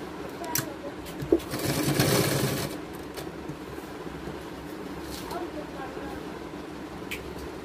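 Sewing machine stitching a baby gown, a fast mechanical whir with a louder burst near the middle, then quieter running and light clicks, close by.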